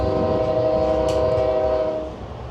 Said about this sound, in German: an die Hupe müsst ihr euch gewöhnen, weil gefühlt wird die ganze Zeit gehupt